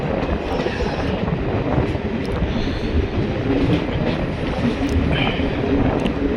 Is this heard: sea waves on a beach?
no